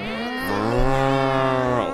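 A person imitates a cow with one long, loud, drawn-out moo that swells and then fades, close up and alone, during a Minecraft horror stream event.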